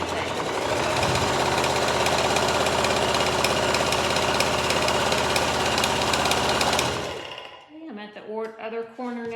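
A sewing machine stitches fabric toward the corner of a pillowcase, a loud, steady rapid mechanical whir for about seven seconds, then stopping as a person begins talking.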